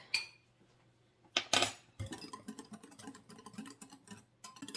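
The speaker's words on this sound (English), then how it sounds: "then we're just going to give this a stir. Get this mixed together. Let's use a whisk." A metal whisk stirs hot cocoa mix in a bowl, giving quiet scraping at first, then a sharp clatter, followed by a steady run of light rhythmic clinks and taps close by.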